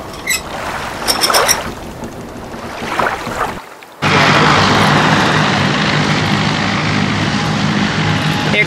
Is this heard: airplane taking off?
yes